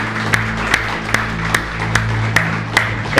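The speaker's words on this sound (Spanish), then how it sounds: "Dale un fuerte aplauso a nuestro Señor Jesús" A church congregation claps in a steady, even rhythm, sharp beats about twice a second over a sustained low keyboard drone.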